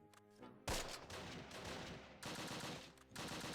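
Gunfire in the World War II video game Close Combat, with loud, sharp bursts of rifle and machine-gun fire in quick volleys and brief pauses between them.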